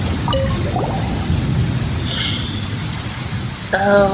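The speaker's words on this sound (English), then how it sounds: "It's a thunderstorm." Steady rain hiss with low rumbling, thunderstorm weather in Genshin Impact, continuous and fairly loud, with a brief voice-like chirp near the end.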